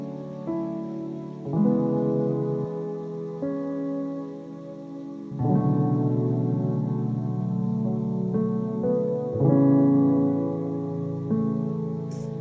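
Layered soft piano from the Foundation Piano plugin, shaped with EQ and reverb, rolls through warm, sustained chords that swell and change every few seconds, mellow and close with a gentle reverberant tail and no talking.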